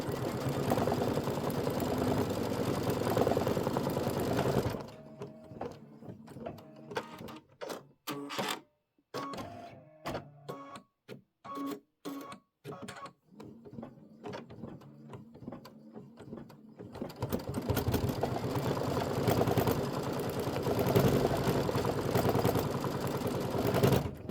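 An embroidery machine stitches an appliqué tack-down on a quilt block, starting with a steady mechanical whir, then a run of rapid, evenly spaced needle thumps and clicks, and ending with the continuous whir again, close and loud.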